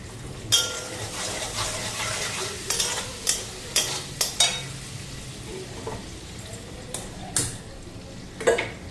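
Steady sizzling of panch phoron spices frying in hot oil in a kadai, with occasional sharp clinks and scrapes of a utensil against the pan.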